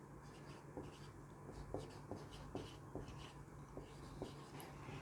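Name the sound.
writing on a board during physics lecture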